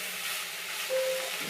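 Mulakkada (drumstick) curry sizzling in a pan, a steady close hiss of frying with a brief brighter spurt partway through, no voices.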